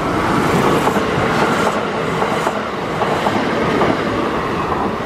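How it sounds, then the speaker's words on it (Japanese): A six-car express train rushes through Nishi-Aoyama Station without stopping, a continuous roar and rhythmic clatter of wheels over rail joints, loud throughout, no voices. "さあ6両編成の急行電車、まあ、まばらに人は乗っているという感じ、まあ、その電車がスーッと通り過ぎ"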